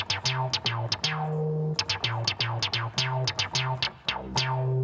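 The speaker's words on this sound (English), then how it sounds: "As if a snare drum is playing on the exact attack of each note." Synthesizer notes with a filtered noise attack like a snare hit on each note, a rapid irregular sequence of sharp percussive onsets over short pitched tones, clear and alone.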